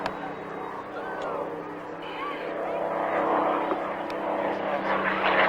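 A Hawker Hurricane displaying at the Duxford Flying Legends airshow in 1999, a steady propeller-engine drone that slowly grows louder beneath a person talking.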